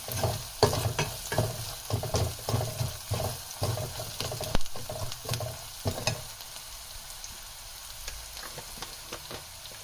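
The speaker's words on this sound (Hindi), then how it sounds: "इन मसालों को अच्छे से इसमें भूनेंगे।" Spices being stir-fried into sarson ka saag (mustard greens) in a pan, with steady scraping stirs over a soft sizzle for about six seconds before the stirring stops and only a quieter sizzle remains.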